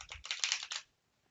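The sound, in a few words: riffle shuffling a tarot oracle card deck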